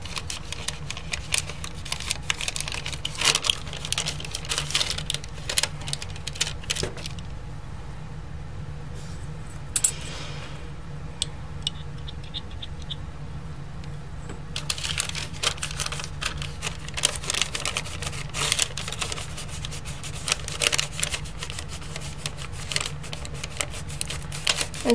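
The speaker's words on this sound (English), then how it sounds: "Got some deli paper here, and I'm just going to burnish that." Polymer clay being burnished through deli paper for a snowflake candle holder, a continuous dry rubbing and crinkling with a quieter pause in the middle.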